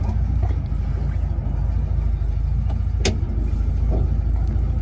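A restored 1952 barn door ambulance drives on a test run, its engine giving a steady low rumble close up with a faint brief click partway through and no voices.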